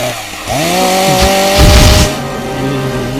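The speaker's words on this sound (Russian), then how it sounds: "Нам нужна лишь бензопила." A chainsaw roars close by in a comedy skit, its engine revving up and down in a loud, rising and falling whine with a harsher surge partway through, and no voices over it.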